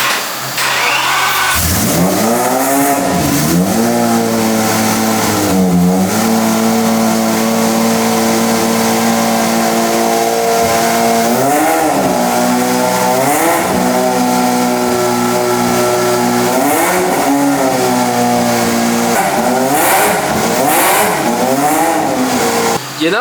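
A Corvette C6 Z06 engine runs loud and close, settling into a steady idle with several sharp revs rising and falling throughout, and no speech over it.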